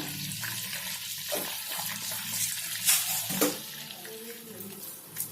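Cloves fry in hot oil in a pan for restaurant-style butter chicken, a steady close sizzle with a few clinks and stirring scrapes, under brief talk.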